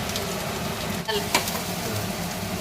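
Potatoes frying in a little oil in a pan, a steady close sizzle with a couple of brief clicks and knocks over the hiss.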